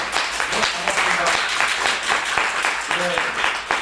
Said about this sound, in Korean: 다 같이 박수를 한번 치면서 시작해볼까요?